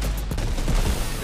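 Pistol gunfire in the video game Fortnite, dense crackling shots in a continuous burst across the whole short moment, loud and busy with no talk over it.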